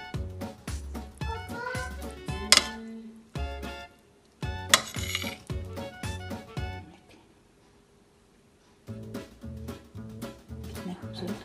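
A spoon stirs yogurt into chickpea and potato rice in a pot, making repeated clinks and scrapes in uneven bursts, loud and close, with a short quiet pause midway.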